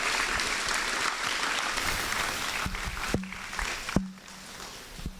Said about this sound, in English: Let us give a round of applause for these resilient students.